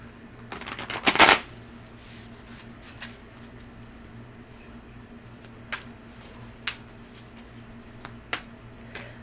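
A deck of tarot cards is shuffled close by in a quick riffling burst lasting about a second, followed by scattered soft card taps and clicks over a quiet room hum.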